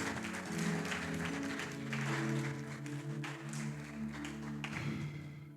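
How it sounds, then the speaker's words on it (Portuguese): Congregation at a Sunday family church service applauds for Jesus, a soft wash of clapping spread across the room over sustained keyboard-like music tones, fairly quiet and distant. "Dá uma salva de palmas para Jesus"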